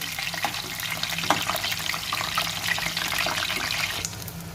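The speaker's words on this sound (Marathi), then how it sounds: "वांगी मऊसर अशी मऊ होईपर्यंत तळून घ्यायची." Eggplant frying in hot oil gives a continuous close sizzle and crackle, a dense bubbling hiss with occasional louder pops, heard alone.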